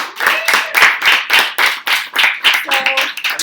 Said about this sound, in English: give Bob a round of applause